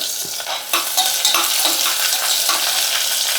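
Chopped onion and cashews crackle in a hot frying pan for broken wheat kichadi, a close, continuous sizzle broken by light stirring clinks, with no talking.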